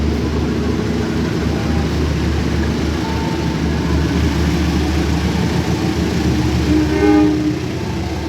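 A local Purwakarta train with stainless steel executive cars departs Cikarang station, a loud, steady rumble of wheels and carriages rolling along the track, with faint horn-like tones rising near the end.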